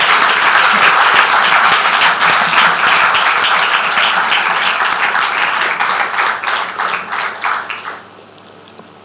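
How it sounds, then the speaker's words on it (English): Audience applause at a health workforce forum closing ceremony, a dense sustained crowd clapping that holds steady and then thins out and fades near the end. "I think you should give another round of applause for them."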